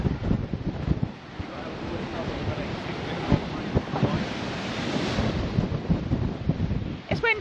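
Strong wind roars and buffets the microphone continuously, with gusting rumble throughout and no speech.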